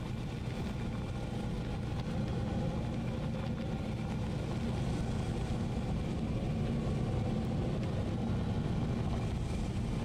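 Steady low engine drone of a wagon vehicle driving across terrain in Astroneer, a continuous even rumble with no voices.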